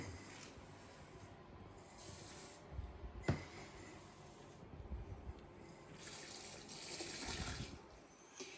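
Malt poured into water for a whisky mash, about 8 kg into 35 litres, gives soft, faint rushing and splashing pulses with a single sharp tap partway through.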